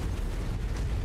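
Sustained low rumbling explosions from an artillery bombardment in the mech combat game Mechwarrior 5 Mercenaries, a dense, continuous roar with no clear gaps and no talking.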